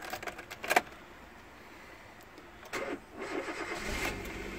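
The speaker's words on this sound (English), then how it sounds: "So let's try giving it a start." A car engine is cranked and started, with a brief burst near the start and a louder catch and rising run in the latter half, fairly close and without talk; it is a car bought from a British auction with the coolant cap just refitted.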